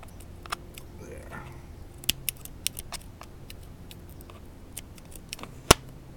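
Small scissors make sharp, sparse snips while cutting coil wire at a tabletop vaping build, with clicks and light handling noises sounding close and quiet.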